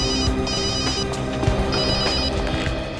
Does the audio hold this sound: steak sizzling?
no